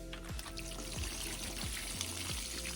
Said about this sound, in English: And then it says to pour out the excess water.